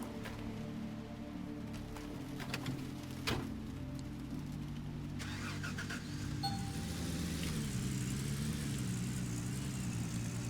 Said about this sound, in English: What if I use my truck?